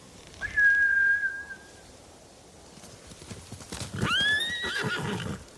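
In Ghost of Tsushima, a sharp two-note whistle calls a samurai's horse, which then gallops in with clip-clopping hooves and a loud whinny, all close and clear without talk.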